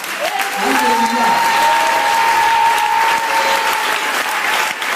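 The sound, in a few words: congregation applauding in church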